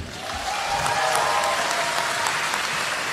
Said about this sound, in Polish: wielkie brawa dla Marysi.